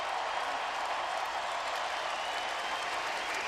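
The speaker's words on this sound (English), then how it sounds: "Wiggins getting a round of applause as he leaves the floor." Arena crowd at a college basketball game, Iowa State at Kansas, applauding Wiggins as he leaves the floor: a dense, steady wash of clapping and cheering that fills the space evenly throughout, broad and sustained.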